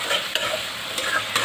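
Meat frying in oil in a home kitchen pan, a steady broadband sizzle with occasional scrapes from stirring, close up and alone without talk.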